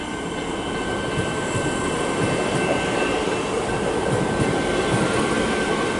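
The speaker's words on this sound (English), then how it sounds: "we've got this Siemens set departing as the Commander arrives behind it" A Siemens suburban train pulls out of Ripponlea station on Melbourne's Sandringham line as a Comeng set arrives behind it, giving a steady, loud rail rumble and hum that holds throughout with no voices.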